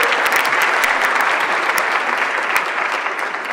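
Audience at a city State of the City address applauding, a dense, steady wash of clapping hands held at even loudness throughout.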